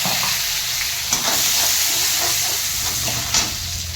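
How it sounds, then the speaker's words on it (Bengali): Dried red chilli and garlic sizzle and crackle in hot oil for a curry, a continuous close frying hiss with small pops throughout and no voices. "এই শুকনো লঙ্কাটা একটু ফোড়ন দেবো"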